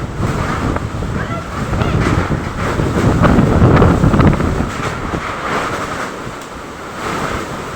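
Typhoon Opong's strong wind battering Masbate, a continuous loud roaring rush that swells and gusts throughout, close against the microphone with surf-like wash underneath.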